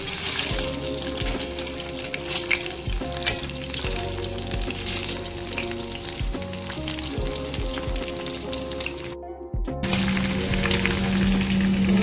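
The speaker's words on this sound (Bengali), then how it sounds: "এখন আমি পকোড়াগুলো ভেজে দিচ্ছি" Pakoras frying steadily in hot oil for a birthday meal at home, a dense continuous sizzle and crackle with occasional stirring clinks, close and fairly loud, with a brief dropout near the end before the frying resumes.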